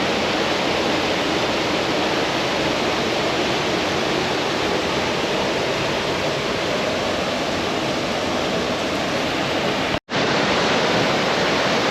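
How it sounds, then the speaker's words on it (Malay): Flowing pond water in a misty outdoor campsite on a morning, a steady broadband rush like a small stream or waterfall running continuously and fairly loud, with a brief dropout near the end. "Tapi air ni mengalir. Air kolam ni air mengalir."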